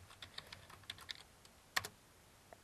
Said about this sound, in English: I typed it in and pressed return.